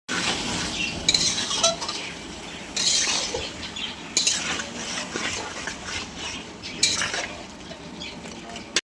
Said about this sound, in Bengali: এবার ম্যারিনেট করে রেখেছিলাম যে মাংসটা, সেটা দিয়ে দেবো কড়াইয়ের মধ্যেই।